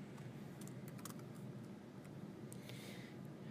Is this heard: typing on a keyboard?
yes